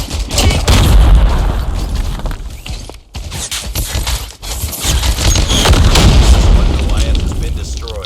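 A Goliath vehicle in Call of Duty Mobile is destroyed in a heavy, booming explosion amid rapid gunfire and rumbling blasts, with game announcer voices over the loud battle.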